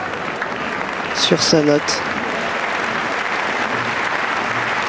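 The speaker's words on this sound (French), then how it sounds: "Le public applaudit pour essayer de le remotiver pour qu'il finisse son programme avec le moins de fautes possible." At a world gymnastics championship arena, the crowd claps in steady, sustained applause; a commentator speaks briefly over it near the start, then the clapping continues alone.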